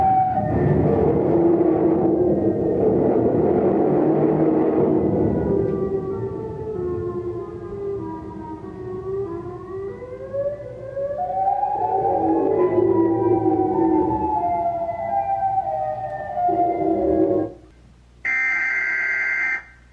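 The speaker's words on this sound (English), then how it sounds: "I've decided to try out a little siren mod I've been working on" A homemade siren mod wails on its own, with rising and falling tones sweeping up and down over several cycles. Near the end it cuts to a short, sharp buzzing tone.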